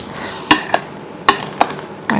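Homemade mayonnaise beaten in a bowl, a few sharp clinks and taps of the utensil against the bowl spaced irregularly, close and fairly loud, with no talk.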